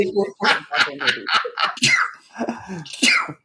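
A dog barking nearby in a rapid run of short, loud yaps and snorts.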